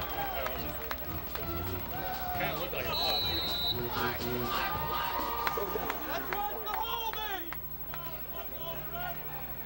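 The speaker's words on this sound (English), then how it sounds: "Nice crowd here at the game today," A vocal crowd of fans at a 2003 college football game between Wisconsin Stevens Point and Augustana College, a steady distant hubbub of cheering and chatter with scattered shouts and whistles under continuous talk.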